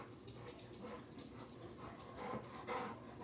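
Dogs pant quietly indoors with faint, soft whimpers mixed in, a steady low-level breathing texture with no speech.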